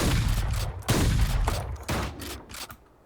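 Valorant gun firing its alternate right-click mode in a video game, several heavy booming shots at irregular intervals, loud and close, with no talk over them.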